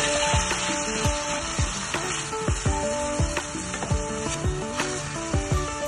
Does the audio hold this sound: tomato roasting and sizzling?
yes